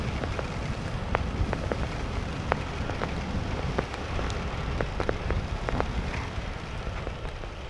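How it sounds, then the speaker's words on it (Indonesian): Heavy rain pours steadily on a route toward Nepal Van Java in Temanggung, a dense, constant wash with scattered louder drops pattering on nearby surfaces. "Wah, ini hujannya gede,"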